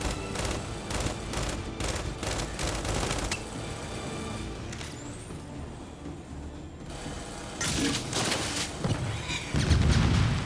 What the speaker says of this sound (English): This is basically a Lancer with a grenade launcher instead of a chainsaw.